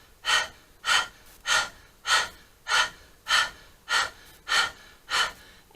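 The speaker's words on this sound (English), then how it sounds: "let's start panting like a dog. Tongue extends out and let's begin panting" Rhythmic, quick dog-like panting breaths through the mouth with tongue out during Kundalini yoga, about nine evenly spaced airy huffs, close and clear with no talking.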